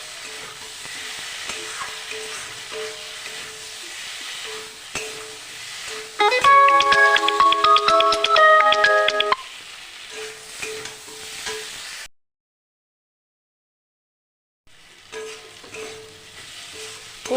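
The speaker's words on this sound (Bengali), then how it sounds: "এই তেলে সোয়াবিনগুলো ভাজা হয়ে যাবে" Soybean chunks fry in oil in a pan, giving a steady close sizzle that turns loud and crackly during a few seconds of stirring, then drops to silence briefly before a softer sizzle resumes.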